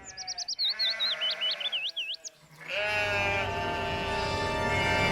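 Sheep and goats bleat while grazing, a run of wavering cries up front, then a denser, steady chorus of overlapping bleats from the flock.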